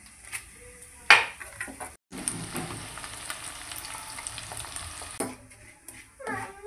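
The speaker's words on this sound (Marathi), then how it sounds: "सगळ्यात अगोदर आपल्याला थोडे पोहे कच्चे फ्राय करून घ्यायचे आहेत।" Raw pohe, flattened rice, frying in oil in a kadhai, with a soft crackling sizzle broken by a few sharp stirring clatters and a brief dropout, the frying noise returning at a steady low level.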